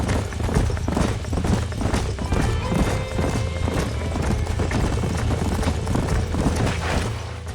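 Horse hooves in Red Dead Redemption, a rapid, loud clip-clop of galloping horses running without pause, with a whinny heard among the hoofbeats.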